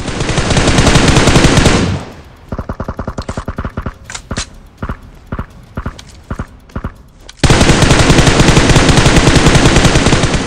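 Gunfire in the mobile battle-royale game BGMI / PUBG Mobile: loud sustained automatic bursts open and close the stretch, with a sparser run of separate sharp shots in between, no talking.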